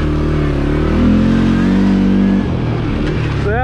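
A CFMOTO CForce 400 ATV with a 400cc engine and clutch kit revs hard at full throttle out of trail turns, a loud, steady, close engine roar that dips slightly near the end.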